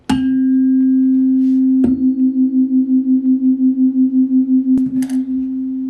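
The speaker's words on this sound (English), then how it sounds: "When 2 different sound wave patterns cross each other, they interfere and cause beats." Two close steady tones interfere to produce beats, a loud sustained hum that swells and fades in an even pulsing rhythm of roughly five throbs per second after a sharp onset.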